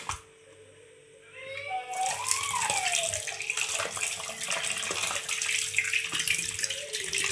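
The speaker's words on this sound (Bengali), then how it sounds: "ধুয়ে নেব মাছগুলোকে আমি।" Fish being washed under a running tap in a home kitchen: steady close water flow starts after a quiet moment and continues with splashing and sloshing as the fish are handled, with no talking.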